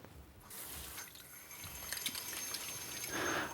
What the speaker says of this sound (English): we're just going to rinse it off real well